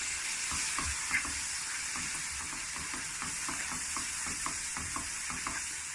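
Chopped tinned tomatoes frying in a pan for a Bangladesh-style vegetable curry, a steady close sizzle broken by repeated soft stirring scrapes in an irregular rhythm, with no voices.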